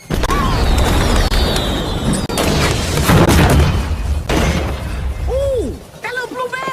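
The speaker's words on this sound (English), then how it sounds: "That little blue van just blew up!" A small blue van explodes in the animated film Doogal during a train chase: a loud, sustained roaring blast with crashing and shattering debris, which fades into whistling and falling sounds at the end.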